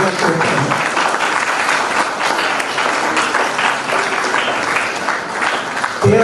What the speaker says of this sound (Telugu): అందరూ కూడా చప్పట్లతో వారికి అభినందన తెలుపు